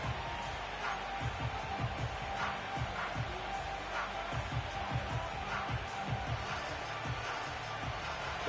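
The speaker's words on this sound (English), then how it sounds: "This crowd into it now as we get to 3rd down." A football stadium crowd cheers in a steady, dense roar that fills the whole stretch, with scattered low thumps and faint voices mixed into the din.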